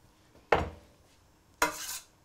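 A cooking pot moved across a kitchen stove, two distinct metallic clunks about a second apart with near silence between them.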